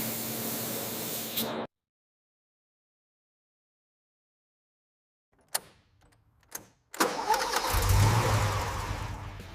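A restored car's engine cranks with a few sharp bursts after a stretch of silence, then catches and runs with a steady, loud rumble.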